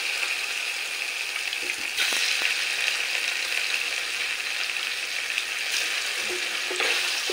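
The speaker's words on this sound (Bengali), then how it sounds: "এবার পনিরগুলো হালকা ভেজে নেব" Paneer pieces fry lightly in oil in a small kadai, a steady close sizzle with occasional stirring clatters for a Bengali paneer posto dish.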